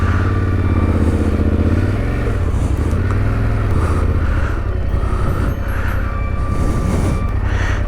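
An adventure motorcycle rides off-road in first gear on a rutted Utah backcountry trail, its engine a loud, close, continuous low drone with slight rises and dips in pitch.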